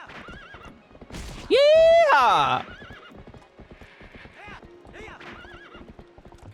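A horse's loud whinny rings out over steady clip-clopping hooves in the video game Red Dead Redemption, with someone briefly shouting and talking around it.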